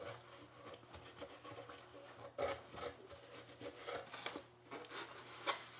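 A dry towel rubs and wipes over the wooden body of a violin at a workbench during a nut replacement, giving soft, uneven scuffing strokes with a few brighter scrapes, close and fairly quiet.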